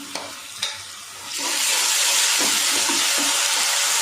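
Loud, steady sizzling hiss of ginger garlic paste frying in a hot pan, rising after a few soft clinks and continuing unbroken to the end.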